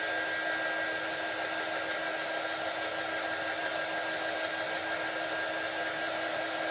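A hair dryer blows steadily and loudly on a handmade fall decor craft, a constant close-up whooshing roar with no pauses.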